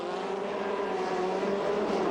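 Race cars at the 1995 Trois-Rivieres race, a steady, dense engine roar carried without a break, the cars held close and loud throughout the short stretch.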